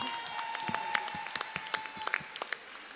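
Audience applause at a Pontic Greek cultural association performance, a burst of clapping hands with scattered sharp individual claps, moderately close, under a faint steady tone.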